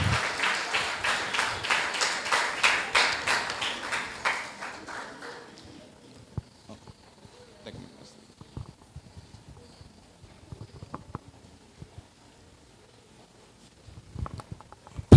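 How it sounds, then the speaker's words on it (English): An audience at a primary school graduation ceremony claps steadily for about four seconds, then the applause dies away, leaving scattered faint knocks and room noise. "Please continue giving them some applause as they make their way to the stage."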